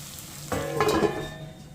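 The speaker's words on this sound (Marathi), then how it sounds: "दहा ते पंधरा मिनटं वांगी पाणी न घालता वाफवून घेतली आहे आणि आता परतून घेते आहे" Stuffed brinjals are sautéed in a kadhai without water: a sudden close sizzle bursts out with scraping stirring strokes against the pan, then fades away within about a second.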